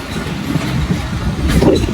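A train pulls in at Dag Road railway station, giving off a continuous low rumble and clatter of rolling rail cars. Near the end comes a faint brief squeal as it slows.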